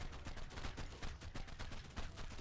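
Gunfire aimed at a basilisk in the Ark video game, a rapid string of sharp shots at a steady, fast rhythm, fairly quiet and distant-sounding, with no talking.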